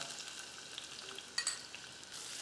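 Garlic and onion sauté in oil for a soya chunk pulao, giving a soft, steady sizzle with a brief stirring clink near the middle.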